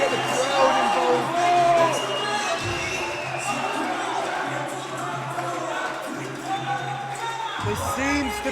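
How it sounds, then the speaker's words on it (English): Crowd at a deadlift competition cheering and whooping to rally a lifter, a lively sustained roar of shouts rising and falling, with a commentator talking over it. "You've got Maxwell there to get the crowd involved."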